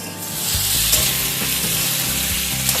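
Boiled elephant foot yam, potato and chickpeas frying in oil in a pan over a medium-high flame, giving a steady, loud, close sizzle throughout with occasional stirring scrapes.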